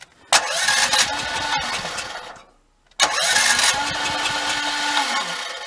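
Two bursts of a portable generator's electric starter cranking with the choke on, each a loud whirring grind lasting about two seconds with a brief gap between them, and the engine never catches.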